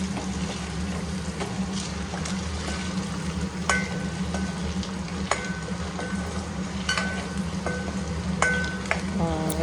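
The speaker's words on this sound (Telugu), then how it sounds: "ఇలా వేయించుకోవాలి ఎగ్స్ని అయితే" Eggs fry in a pan seasoned with chilli powder and salt, a steady close sizzle and crackle running throughout, with light scraping and occasional sharp pops.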